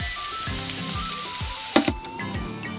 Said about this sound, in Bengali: ঢাকাটা খুলে আলুটা খুলে ভাজা, পেঁয়াজটা দিয়ে দেবো।